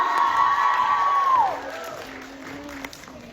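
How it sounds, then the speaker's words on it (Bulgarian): Studio audience applauding and cheering on a Bulgarian TV show, a loud crowd wash with a shouted tone that fades after about a second and a half, leaving a softer tail of clapping. "Аплодисменти за Ноа и ние ви благодарим много."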